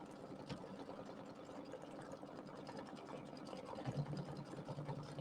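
An embroidery sewing machine stitches a design onto an Easter settee pillow. Its rapid, even needle chatter runs continuously and sounds faint and mechanical, with no talk.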